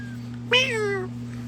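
A cat gives a single drawn-out meow that falls in pitch, close by, over a steady low electrical hum in a quiet room.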